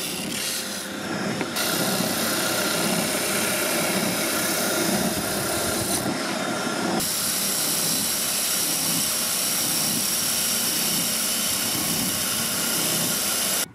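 A Parkside PSSO 500 A1 500 W oscillating spindle belt sander runs with a loud, continuous whirring roar, with two brief dips in intensity before it settles into a steady drone.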